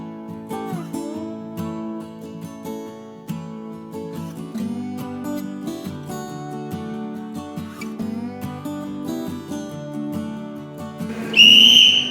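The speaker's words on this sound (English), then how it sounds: "a warning whistle for the people inside the hall to close the ears" A millet puff gun machine sounds its warning whistle near the end as one loud, shrill, piercing blast of about a second, rising over a quieter background of steady tones.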